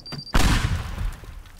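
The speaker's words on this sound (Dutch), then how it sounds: "Oh, dat zijn maar kleine explosies hoor." A single loud explosion from a placed bomb in the Teardown video game, a sudden heavy boom that rumbles and fades over about a second after a brief quiet lead-in.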